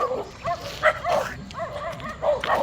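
A dog barks and yips repeatedly at close range, about half a dozen sharp, loud barks in an irregular rhythm, with faint background noise between them.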